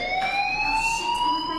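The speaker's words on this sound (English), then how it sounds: "Hey, do you hear that fire alarm?" A fire alarm rings loud and steady in the Life is Strange video game, a continuous shrill electronic tone with no talk over it.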